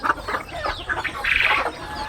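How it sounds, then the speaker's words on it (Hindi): Free-range hens stepping out of their coop with chicks on an integrated farm, clucking in short, close, moderately loud calls. "हमारी 3 मुर्गियां अभी बाहर निकल गई हैं अंदर से और फ्री रेंज में अपने बच्चों को घुमा फिरा रही है।"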